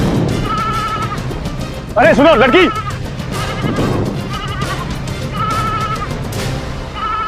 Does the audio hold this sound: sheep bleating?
yes